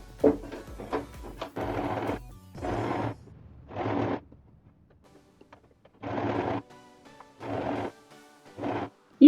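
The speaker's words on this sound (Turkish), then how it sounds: "Şimdi tersinden tekrar düz dikişle dikiş atacağım." A sewing machine runs a straight stitch along the neckline of a hood, whirring in short bursts of about a second with pauses between them for adjusting the fabric, close by, with no speech.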